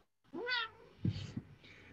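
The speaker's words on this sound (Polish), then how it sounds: "Kot chciał mi wypić wodę z kubeczka" A cat gives a single clear, close meow, followed by a few short, muffled knocks and rustles in an indoor room.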